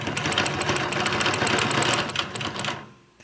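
A sewing machine stitches a quilt block in a fast, even run of mechanical ticks and whirring, close by, then slows and stops near the end.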